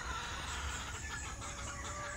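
Hens clucking softly on a farm, a low, steady murmur of fowl under constant background noise, with a faint crowing note now and then.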